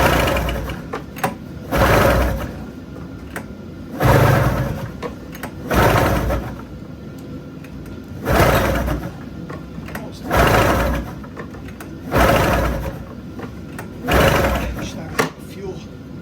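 A 1997 Arctic Cat 440 snowmobile engine is pull-started, with repeated loud bursts of cranking and sputtering roughly every two seconds, separated by quieter pauses, as the motor tries to catch.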